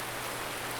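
Rain falls in the Farming Simulator 2019 video game, a steady broadband hiss of dense drops, even and moderately loud throughout the brief moment, with no talking.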